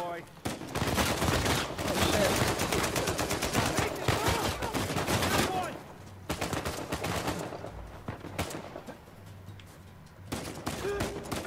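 Rapid gunfire from Uncharted 4: A Thief's End, with dense bursts of automatic shots and loud, close cracks that pause briefly and resume over several seconds, mixed with game action noise.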